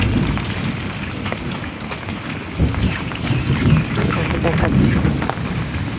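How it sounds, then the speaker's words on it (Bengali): Heavy rainwater rushing and overflowing from a drain outside a house during a downpour, a loud continuous wash of water with a person speaking over it. "ড্রেনটা এত উপচে পড়েছে জলে।"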